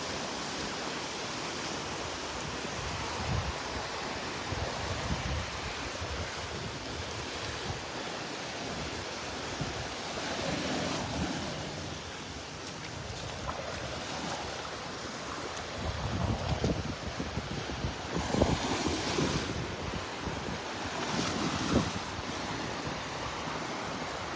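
Ocean waves wash onto the beach at Delnor-Wiggins in a continuous broad roar of surf, with gentle swells in loudness and some wind buffeting, and no voices.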